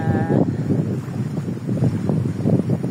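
Strong wind buffets the microphone in heavy gusts out on open water aboard a fishing boat, with a low rumbling roar and churning waves beneath.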